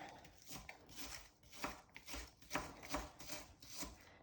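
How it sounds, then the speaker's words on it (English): A knife chops cabbage for German-style stuffed cabbage rolls, striking a cutting board in a run of crisp, evenly spaced cuts heard close and alone. "chop it up"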